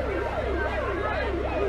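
A fire engine siren wails at a house fire in Taplejung, Nepal, its pitch sweeping steadily up and down in repeated cycles, loud and continuous, with a dense background of noise and no clear talk.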